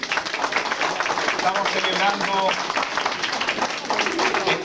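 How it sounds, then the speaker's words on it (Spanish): A church congregation breaks into sustained applause, the clapping dense and steady throughout while a voice speaks over it. "Un aplauso, por favor."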